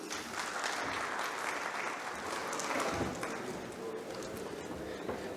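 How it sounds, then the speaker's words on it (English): A rheumatology conference audience applauds a speaker, a dense, steady wash of clapping from many hands that fills the whole stretch. "Let's give a big round of applause for Dr. Aflaq Rashid."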